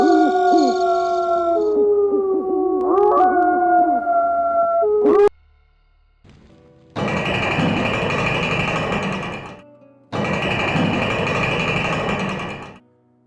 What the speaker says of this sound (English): Gotta love how the wolf sound abruptly ends after all that spam.